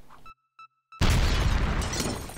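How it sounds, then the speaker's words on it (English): A C4 demolition explosion in the video game Monster Crush: a few short electronic beeps, a brief silence, then a sudden loud blast that rumbles and crumbles on as the structure collapses. "That looks like a good explosion, guys."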